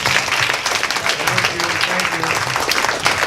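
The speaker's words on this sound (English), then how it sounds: "I think that deserves a round of applause." Applause fills a room of people at a talk on physical therapy and sensory-motor integration, a continuous dense clapping with voices murmuring underneath and a brief spoken thanks.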